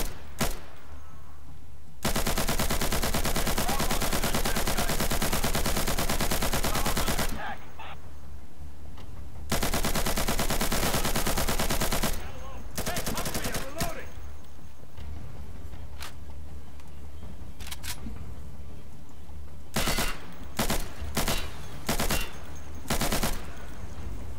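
UMP submachine gun firing in Insurgency, long loud sustained bursts of rapid automatic gunfire with gaps between them, ending in several short bursts and single shots.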